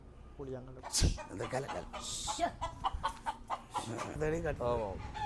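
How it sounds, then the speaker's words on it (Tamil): A chicken clucks repeatedly close by, its calls mixed in with people talking over it throughout. "கோழி சத்தம் இடையில டிஸ்டர்ப் ஆனதால் திருப்பி நாங்கள் தொடர்றோம்"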